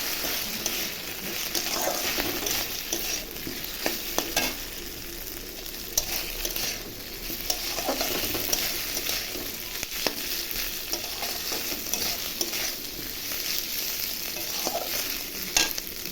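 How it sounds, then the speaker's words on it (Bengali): Moong dal frying and being stirred in a hot pan for khichuri, a steady broadband sizzle with scraping stir strokes throughout, close and continuous with no talk. "মুগ ডালটা দিয়ে আমি ভালো করে এখন ভেজে নিচ্ছি।"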